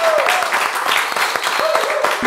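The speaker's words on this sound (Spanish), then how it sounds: "¡Guarden un aplauso!" Studio audience applauding on a Spanish-language TV talk show as a guest is introduced, a steady, dense burst of clapping filling the whole stretch with some crowd noise mixed in.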